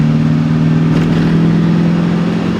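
A car with a huge aftermarket cam accelerates hard in second gear from about 40 mph, its engine droning loud and steady with a rough, lumpy tone throughout.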